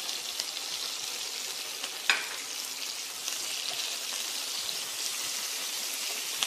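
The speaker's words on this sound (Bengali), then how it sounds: "এরপর আমি এটা আধা ভাজা করে এরপরে আমি পেঁয়াজগুলো এর মধ্যে দিয়ে দেবো।" Onions frying in a pan, a steady bright sizzle with a sharp crackle near the start, close and continuous without talk.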